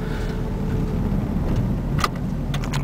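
A 1996 Dodge Neon converted from automatic to a five-speed manual drives through traffic, its engine a steady low hum with road rumble and a few brief clicks near the end.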